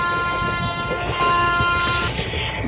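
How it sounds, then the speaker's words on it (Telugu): A train horn blares in a sustained, loud multi-tone honk of about two seconds over the rumble of rolling railcars, with no voices. "వెళ్తున్నా హారన్ కొడుతున్నా."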